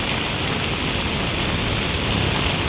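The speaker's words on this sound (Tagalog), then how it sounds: "So ulan. Maaga pa. 9 o'clock pa. Pero ulan na oh." Steady rain falling, a dense continuous hiss of drops at an even level with no pauses and no voices.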